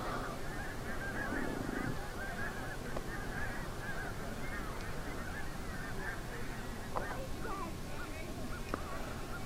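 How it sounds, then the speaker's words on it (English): Geese honking repeatedly at a distance as they fly southeast, their calls rising over a soft outdoor background, with a faint voice present. "The geese flying southeast for the winter."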